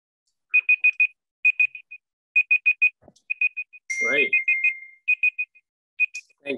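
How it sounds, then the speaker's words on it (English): A phone alarm beeps in repeated quick bursts of high tones during a poster presentation session, with a person speaking briefly partway through as the beeping continues. "If someone's got their alarm on, it'd be great if they could turn it off."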